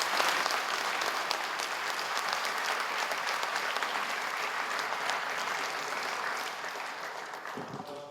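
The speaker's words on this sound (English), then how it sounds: "Please welcome him to the stage with a round of applause." A lecture audience at IIT Bombay applauds steadily to welcome a speaker to the stage, a dense, even wash of clapping that holds for about eight seconds before trailing off.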